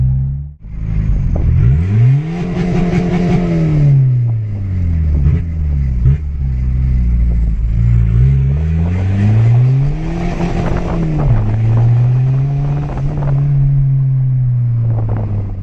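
A budget VW TDI diesel car with a wastegate turbo cruising at about 75 mph, a loud steady engine drone heard from inside the car, rising and falling in pitch with throttle changes and gear shifts, no talk.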